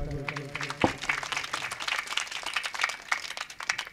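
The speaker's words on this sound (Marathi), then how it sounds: "वाजवा टाळी" An audience at a Marathi devotional kirtan gathering at Kshetra Gokarneshwar Sansthan, Dabhadi claps loosely in a scattered burst after a low held tone fades, with a voice carrying over the claps.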